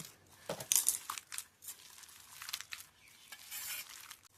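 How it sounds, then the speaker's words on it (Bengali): Onion pakora batter with chopped green chillies is squeezed and mixed by hand in a bowl, giving quiet, close, irregular wet squelches and crinkly rustles with no talking. "এবার আমি এই কাঁচা লঙ্কাটাকেও ভালো করে মেখে নেব"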